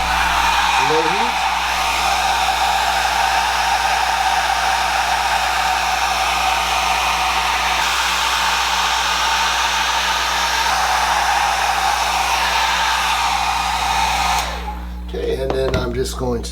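Steady, loud airflow roar from a heat gun on low heat blowing onto a Sopiguard skin on a Microsoft Surface Duo, continuous for most of the stretch before cutting out near the end with a few handling clicks.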